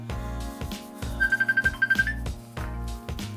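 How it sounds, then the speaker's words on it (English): In a home woodworking shop, a mobile phone rings with a rapid electronic trill of about ten quick pulses, clear and close above a steady music bed, then stops. "Phone call."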